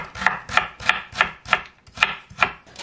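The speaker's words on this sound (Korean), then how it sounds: "당근은 많이 안 썰어도 될 것 같아요" A knife chops carrots on a cutting board in eight crisp, evenly spaced strokes, close and clear with no talk.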